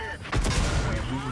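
A tank gun fires in the video game World of Tanks, a single heavy boom with a rolling tail during a Tier 8 battle, loud and close over game noise.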